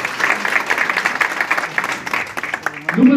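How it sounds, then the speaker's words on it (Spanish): Wedding guests give a short burst of applause for the groom at a civil marriage ceremony. The clapping fills the room briefly and fades as a voice resumes. "Un fuerte aplauso para Luis"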